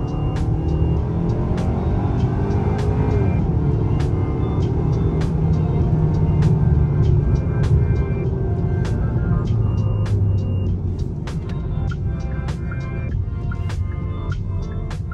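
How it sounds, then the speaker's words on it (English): A 2024 Hyundai Sonata accelerates in sport mode, heard from inside as a steady engine hum and road rumble that rises gradually, with faint ticking clicks throughout. "Let's give it a quick acceleration,"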